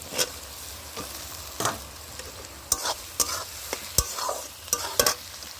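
Chicken frying in a pan over a wood-fired stove as tomatoes go in, a crackling sizzle broken by repeated sharp scrapes and knocks of a stirring spoon, close up and without speech.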